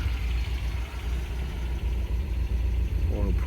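A warmed-up 1974 MG MGB GT idles with a steady, low, close rumble that holds even throughout, with a faint higher whine near the end.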